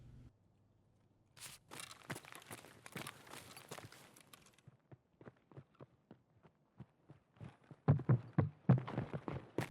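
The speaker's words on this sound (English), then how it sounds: "Then we can hear footsteps." Enemy footsteps in Escape From Tarkov, a run of quick irregular steps that starts faint and grows closer and louder toward the end, with short thuds and crunches.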